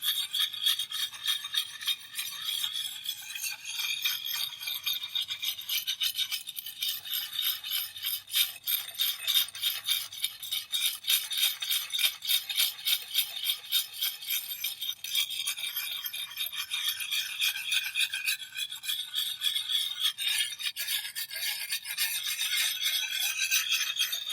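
A billhook blade is rubbed steadily across a sharpening stone in a continuous rhythmic rasping scrape, close and fairly loud, with no voices.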